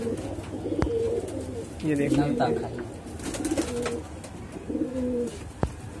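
Punjabi pigeons coo in low, rolling bursts, several calls close by, with occasional sharp clicks and someone speaking briefly among them.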